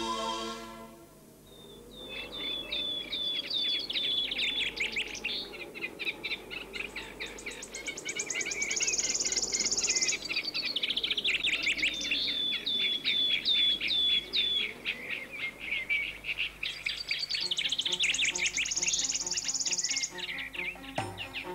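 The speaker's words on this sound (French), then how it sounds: "Écoute, frère Léon, écoute le chant de ces oiseaux." Birds sing without pause, trading quick repeated chirps and whistled phrases over a steady bed of insect and cricket buzz, in a staged performance about Saint Francis.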